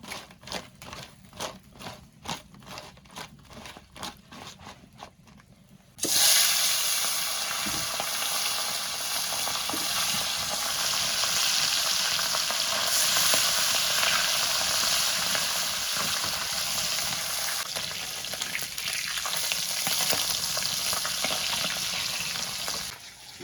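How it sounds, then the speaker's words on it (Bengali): Fish seasoned with salt and turmeric fries with ginger in hot oil, a loud, steady sizzle that erupts suddenly after a few seconds of quieter clatter and persists, dipping slightly near the end. "মাছগুলা আদা ভাজা করে নেব।"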